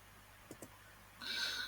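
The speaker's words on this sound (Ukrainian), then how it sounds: "Тобто мені достатньо зараз її натиснути на своїй клавіатурі" The Print Screen key on a computer keyboard is pressed, producing two faint, quick clicks close by in an otherwise quiet room, followed by a soft brief hiss.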